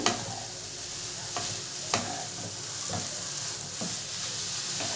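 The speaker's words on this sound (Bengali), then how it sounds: "যতক্ষণ না গাজরের কাঁচা গন্ধটা যাবে ততক্ষণ গাজরটাকে ভাজতে হবে" Grated carrots for carrot halwa fry in a pan, with a steady sizzle beneath and a few sharp scrapes of a spatula stirring them at irregular moments.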